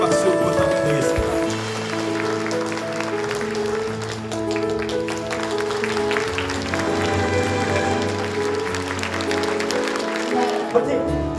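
Congratulatory applause rises at an award presentation during the Incheon Ilbo 30th-anniversary celebration. Steady clapping runs for about eleven seconds underneath loud ceremonial music with sustained tones.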